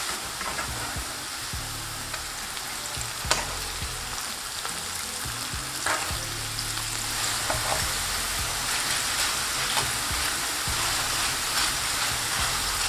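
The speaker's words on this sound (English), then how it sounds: "they go straight into the hot oil" Flour-battered onions crackling in hot oil, a close, continuous sizzle with scattered sharp pops and occasional stirring clatter, no voices over it.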